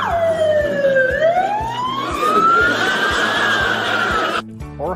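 An ambulance siren wails loudly and close by in a single falling-then-rising sweep over a rhythmic pulsing background tone, then stops abruptly.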